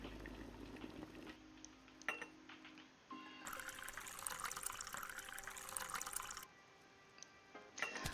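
Water boiling and being poured for a long black coffee at a cafe, a bubbling, hissing rush with splashy bursts, moderately close and with no talk.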